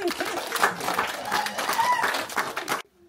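Applause from a school audience in Cameroon, dense clapping with some voices mixed in, steady for nearly three seconds and then cutting off abruptly.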